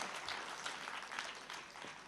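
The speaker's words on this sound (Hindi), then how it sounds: "एक बार जोरदार तालियां बजाइए" Applause from the audience at a live Hindi poetry gathering, a faint, dense patter of many hands clapping steadily throughout.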